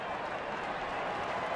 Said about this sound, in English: And the crowd getting back into it now.